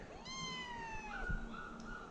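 A cat in a barn gives a single drawn-out meow with a rising then falling pitch, fairly close and clear, with a small knock partway through.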